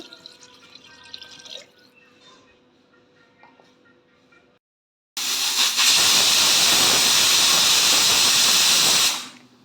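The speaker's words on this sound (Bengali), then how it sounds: "পাঁচটা সিটি দেওয়ার পর নামিয়ে নেব।" A pressure cooker cooking chicken stew with beans lets out a sudden loud, close blast of hissing steam lasting about four seconds. It follows quiet kitchen sounds with faint talk, then cuts off sharply.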